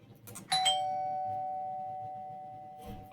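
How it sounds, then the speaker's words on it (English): A doorbell in an interactive horror story gives a single loud two-tone chime with a long ringing decay, then a brief clatter at the very end. Nobody speaks. "as you're sipping your coffee and the doorbell rings"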